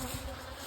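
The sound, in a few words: honey bees buzzing at hive in rain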